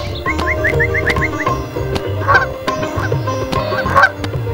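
A duck in the mobile game Meena 2 honks several times in quick bursts, loud and close, over a steady background of game music.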